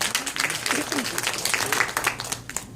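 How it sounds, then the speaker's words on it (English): Audience applause at a product testimony gathering, a dense burst of hand clapping from a crowd with a few voices and cheers mixed in, fading near the end. "give that a hand clap"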